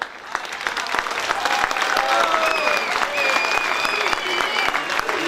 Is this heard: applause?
yes